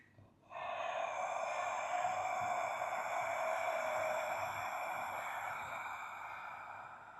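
Steady ujjayi ocean breath during yoga practice, a long, even, hissing exhalation through a narrowed throat lasting about six seconds, close and alone with no talking.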